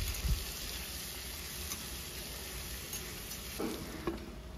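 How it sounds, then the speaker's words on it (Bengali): Potatoes frying in a pan with onions, salt and turmeric give a steady broadband sizzle throughout, with a few brief stirring clatters and scrapes rising above it near the start and toward the end. "এখন আলুটাকে আমরা লাল করে ভেজে নেব। এর মধ্যে লবণ আর হলুদও দিয়ে দিচ্ছি।"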